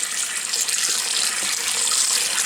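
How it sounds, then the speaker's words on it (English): Very hot water pours steadily into a clogged, old bathroom drain with original pipes, a continuous close hiss and splash without pause and no voices. "now I'm ready to pour some really, really hot water in this"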